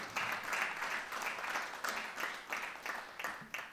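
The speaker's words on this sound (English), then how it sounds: "You are applauding now" Audience at an academic conference's opening keynote applauds in a steady wash of clapping with a faintly pulsing rhythm, moderately distant and fairly soft, with no talk over it.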